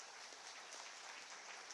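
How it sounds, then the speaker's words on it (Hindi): Audience applause at a ceremony for handing out appointment letters to teachers and lab assistants in Jharkhand, a dense, steady wash of clapping filling the whole moment at low volume. "इस नई उड़ान के लिए एक बार जोरदार तालियां बजा दीजिए।"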